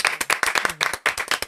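A small group claps for a DJ on a talk show, a short burst of distinct, close, uneven hand claps in quick succession.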